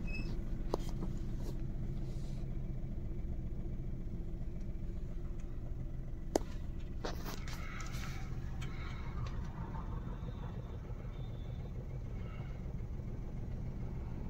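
A car engine idles and rumbles steadily at low pitch while reversing in reverse gear during a driving lesson, with a few faint clicks and knocks over the constant drone.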